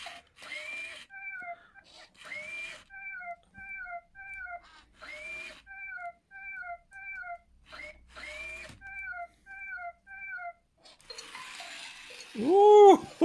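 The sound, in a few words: Aldi Power Kitty Jr remote control robot kitten moving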